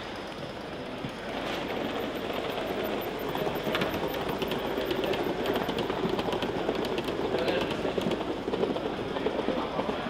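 A train rumbles steadily along the track with a continuous clattering roar and rhythmic clicking of wheels, fairly loud and unbroken throughout.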